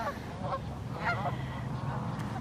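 Wintering swans at Fair Haven, New York honk in scattered, moderately distant calls over a steady low outdoor background.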